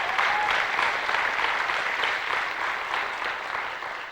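Graduation audience at a 2005 high school ceremony applauding steadily, a dense, loud wash of clapping from many hands that holds at an even level before slowly tapering.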